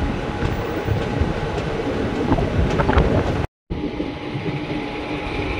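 The Ratnachal Express rolls slowly toward the platform at Nidadavolu junction, past the railway gate, with a steady rumble and faint rhythmic wheel clatter close by, broken by a brief dropout near the end.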